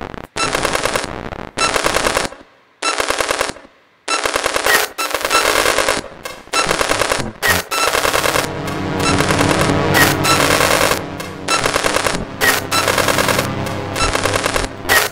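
Harsh, buzzing circuit-bent synth bursts from U-He Satin stutter in rapid machine-gun-like rhythms, loud and gated on and off, with a reverberant tail between phrases.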